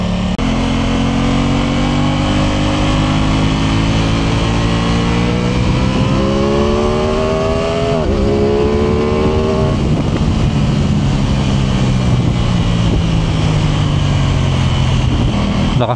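An Aprilia Tuono 660 or Honda CBR650R middleweight sportbike pulling hard in dynamic riding mode, the engine note loud and close, climbing in pitch through the gears with sharp shifts and a long wind-down, no speech.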